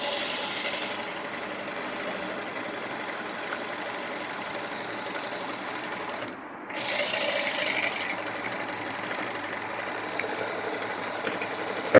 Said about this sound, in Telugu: ఇలా చుట్టూ అవుట్లైన్ స్టిచ్చింగ్ చేసుకోవాలి మనము